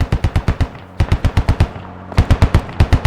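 Rapid automatic gunfire in the video game Squad rattles in quick bursts, a short pause and then another fast volley, loud and close, with no voices.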